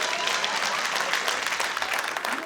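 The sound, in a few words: audience applause at a comedy show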